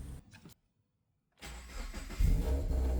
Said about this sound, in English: Turn it on and the car starts.